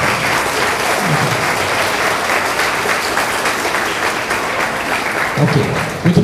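An audience gives a round of applause for capoeira students and teachers at a martial arts exhibition, loud and continuous throughout with a crowd murmur beneath.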